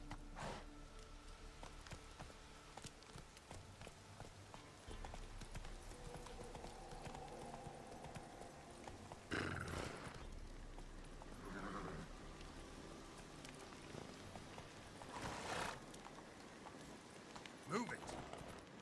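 Roach the horse gallops in The Witcher 3, rhythmic hoofbeats clip-clopping steadily under in-game sound effects and a voice speaking, with a few sharp louder impacts.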